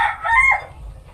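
A chicken crows once, a short, fairly loud call close by on a rural Filipino homestead, with a faint low background hum underneath.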